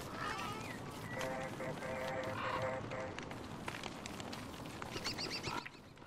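Birds in Don't Starve Together chatter and squawk through a busy game soundscape, with clustered calls and tonal chirps around the middle and again toward the end over constant background noise.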